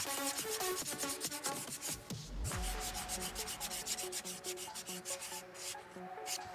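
A Dremel rotary tool sands craft horns with a rapid, buzzing rasp close by, broken into short repeated strokes, with a soft tonal music bed underneath.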